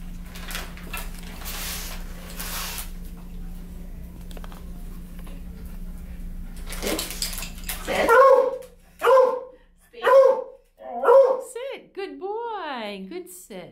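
A puppy lets out four sharp barks in quick succession near the end, after a stretch of low background hum and rustling; a person talks nearby.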